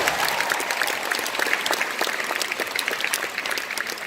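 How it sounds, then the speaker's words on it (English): A convention hall audience claps in a dense, sustained round of applause, steady and loud throughout with no let-up. "please give Nick a big round of applause"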